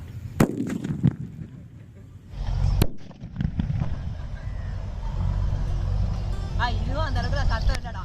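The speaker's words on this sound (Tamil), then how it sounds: "ஆட்டோ பாம்புல எந்த அளவுக்கு சத்தம் வருதுன்னு பாக்கிறதுக்காக தான் இப்ப வெறும் ஆட்டோ பாம்பு நம்ம வைக்க போறோம்" An auto bomb firecracker goes off beneath a cardboard box: a sharp, loud blast near the start followed by crackling debris and rumble, with voices and outdoor noise continuing around it.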